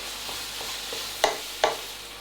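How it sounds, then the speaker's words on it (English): Minced beef with flour is stirred in a frying pan over a constant low sizzle, with soft scraping strokes and two sharper knocks of the utensil against the pan, no talking. "So make sure you mix it well and give it 2 minutes for the flour to cook out."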